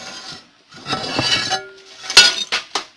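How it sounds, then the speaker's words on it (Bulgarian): A mirror is smashed inside an abandoned building: a rough scraping crunch of breaking glass, then a sharp ringing crash with tinkling shards and a few brief clinks, close and fairly loud. "Щупих стъкло. Аз ще пих огледал."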